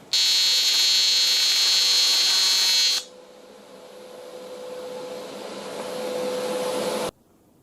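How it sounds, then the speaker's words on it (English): Tack welding a thick aluminum piece: a loud, steady electric buzz-hiss arc runs for about three seconds, then stops abruptly and a quieter, lower hum carries on until the end, with no talking. "welding thicker piece of aluminum, definitely harder than anticipated"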